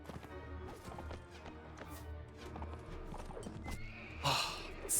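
Horse hooves clop in quick rhythm during a Mount and Blade Warband battle, followed by a loud neigh near the end, with battle noise in the background.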